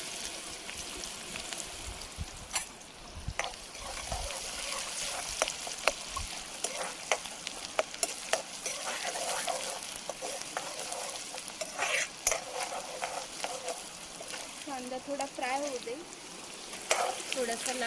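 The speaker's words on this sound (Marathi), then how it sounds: "ते कांदा टाकून घेऊया" Onion frying in a kadhai with mustard seeds, cumin, garlic and curry leaves for a Konkan bangda fish curry, a steady close sizzle with frequent stirring scrapes and spoon clinks, faint voice murmurs now and then.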